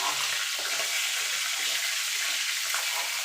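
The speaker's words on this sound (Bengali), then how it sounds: "ইলিশ মাছের মাথাগুলো ভেজে নেব" Hilsa fish heads frying in hot oil, a steady dense sizzle that holds loud and close throughout, with faint clinks underneath and no talk.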